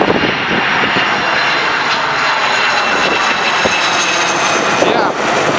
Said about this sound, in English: the vintage 737 Boeing, smoking it up. 737-200, Air Inuit.